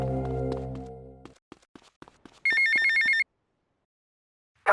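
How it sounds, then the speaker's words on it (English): A phone rings in GTA Vice City, preceded by a fading tone and a few footstep-like taps, then one loud bright electronic ring burst that stops, with a final ring starting at the end. "a phone call from Lance Vance takes place"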